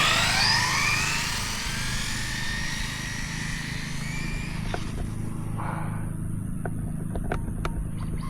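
A Traxxas 4-Tec 3.0 RC car with a brushless conversion accelerates, its motor whine rising and then fading away, followed by a few sharp clicks and ticks nearby.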